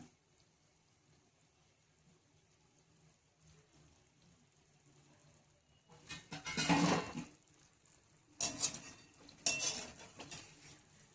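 Khari pastries are lifted from hot frying oil with a metal utensil, giving a few short bursts of scraping and clinking against the pot over a faint background.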